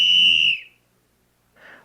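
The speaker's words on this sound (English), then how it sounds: "when the referee blew his whistle" A single sharp, high-pitched referee's whistle blast at an ice hockey game, followed after a pause by a brief, softer second toot.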